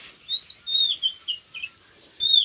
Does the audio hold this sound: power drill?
no